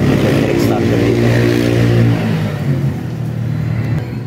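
A 2024 Microbike MX 150 XR off-road motorcycle with an OHC 150 engine revs up loudly nearby, its droning tone climbing then easing back to a steady run.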